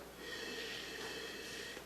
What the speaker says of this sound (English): Let's give it a little sniff.